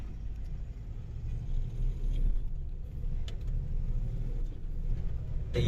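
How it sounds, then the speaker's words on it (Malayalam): A bus rolls past on a road near Kozhikode Medical College, a close, steady engine rumble with a low drone that swells slightly as it goes by. "ദേ ഇതുവഴി ഒരു ബസ്"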